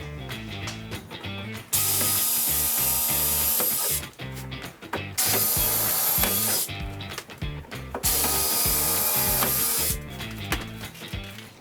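A power drill boring pilot holes into the metal wall of a school bus for sheet metal screws, three loud sustained whirring bursts separated by brief pauses.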